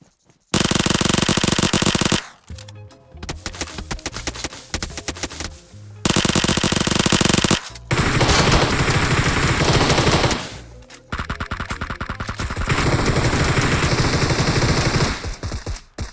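Loud, close gunfire comes in long bursts of rapid automatic fire, broken by brief pauses and followed by sustained volleys.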